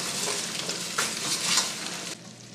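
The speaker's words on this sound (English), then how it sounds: "Deglaze with a little more red wine." Red wine hitting a hot pan with garlic for a stroganoff, bursting into a loud close sizzle that swells and crackles for a couple of seconds before cutting off abruptly.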